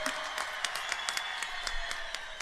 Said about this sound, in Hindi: तुम ताली बजाओ नीरज भाई के लिए सब लोग